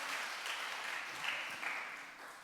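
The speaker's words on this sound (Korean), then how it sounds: "박수 한번 쳐주시기 바랍니다." Church congregation applauding during a Friday prayer service, a steady wash of clapping that holds through the clip with no voices over it.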